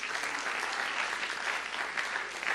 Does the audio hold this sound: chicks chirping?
no